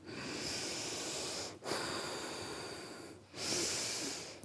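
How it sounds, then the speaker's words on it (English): Deep, full circular breathing heard close up: long airy breaths flow in and out with only brief pauses between them, soft and hissing, with no talk over them. "Deep and full circular breathing."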